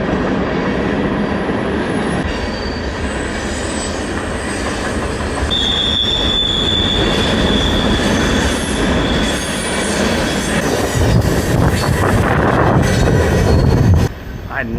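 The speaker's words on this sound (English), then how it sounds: "There go the coal trains." A long coal train rolls past on railroad tracks, a steady loud rumble of wagons with a drawn-out wheel squeal partway through and clanking toward the end, continuous throughout.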